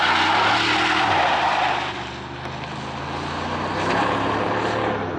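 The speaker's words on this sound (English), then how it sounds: "I turned off traction, so we're doing a bit of a burnout." Ford F-250 Super Duty work truck with a 6.8-liter V8 doing a burnout with traction control off, a loud continuous engine roar holding steady for several seconds with no talk.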